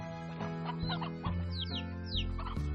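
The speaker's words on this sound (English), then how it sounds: "I hear chicken sounds." Chickens cluck repeatedly in the video game Slime Rancher, a steady run of short calls over a sustained tonal music bed, fairly close and clear.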